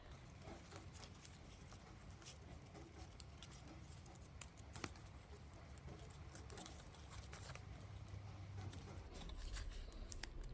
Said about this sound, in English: that's thumping on the barbecue outside. If you can hear that pitter-patter of the raindrops